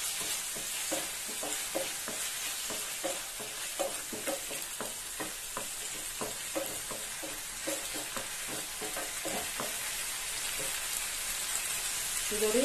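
Ground tomato paste sautéing and sizzling in a pan for egg paniyaram gravy, with a steady frying hiss and repeated soft stirring scrapes in a regular rhythm, close and continuous, with no talk.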